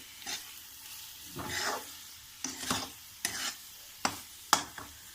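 Boiled meal maker soya chunks tipped into a curry pan, giving a few short scraping stirs and soft sizzling bursts spaced over several seconds, close and fairly quiet.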